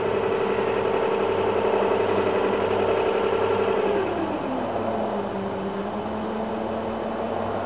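Beta version of an electric paddle with its motor running at full speed gives a steady, close mechanical whine that drops in pitch and settles lower partway through, with no one talking.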